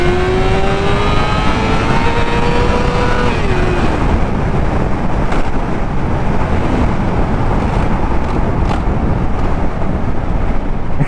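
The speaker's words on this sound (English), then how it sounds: "See what it can do in first gear." A BMW S1000 motorcycle accelerates hard in first gear, its engine note climbing steeply in pitch before a shift, then a continuous loud roar with heavy wind buffeting on the microphone and no talking.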